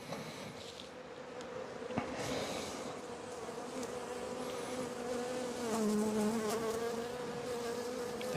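A dense, continuous hum of many honeybees buzzing close by at an open hive with European foulbrood, with individual insects droning past and shifting in pitch.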